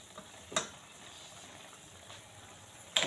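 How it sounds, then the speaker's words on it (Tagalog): Adobong sitaw, string beans in adobo sauce, simmers in a pot while being stirred, a faint soft bubbling with occasional sharp utensil clinks against the pot. "kumukulo na po ang ating sitaw na adobo"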